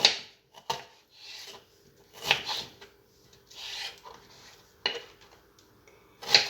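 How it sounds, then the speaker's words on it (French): An onion being cut into small pieces with a knife, heard as irregular scraping, rasping strokes and light knocks on a board, close and fairly quiet, with no talk. "On coupe l'oignon en petits morceaux."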